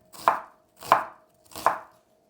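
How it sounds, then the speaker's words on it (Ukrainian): Three crisp knife chops cut an onion into half rings on a cutting board, evenly spaced, close and clear with nothing else around them. "Цибулю наполовину, і ще наполовину, і півкільцями."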